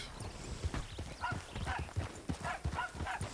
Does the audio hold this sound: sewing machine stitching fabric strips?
no